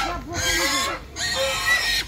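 Loud, close geese honking and squawking in two overlapping bursts, harsh and nasal.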